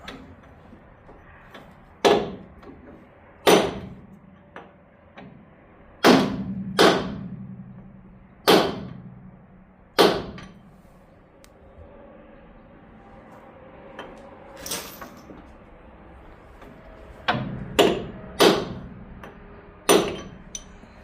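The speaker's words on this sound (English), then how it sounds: "I've just got this 1/2 inch extension and an 8-pound hammer. I'm going to try and pop this guy out." Heavy 8-pound sledgehammer blows ring out on a 1/2-inch steel extension, driving out a car suspension joint, single sharp strikes spaced a second or more apart, some in quick pairs, with quiet pauses between.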